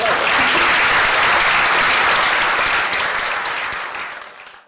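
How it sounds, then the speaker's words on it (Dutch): A crowd at the Lions culture prize ceremony in Oostburg, Zeeuws-Vlaanderen, applauds the mayor with loud, sustained clapping that swells and then fades out over nearly five seconds. "Mogen wij een applaus voor de burgemeester krijgen?"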